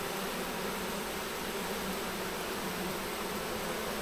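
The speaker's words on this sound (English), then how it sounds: "A whole bunch of fanning going on. They're fanning pheromones." Honeybees fan pheromones at the entrance of a backyard hive, producing a dense, continuous buzzing drone at a steady level with no pauses.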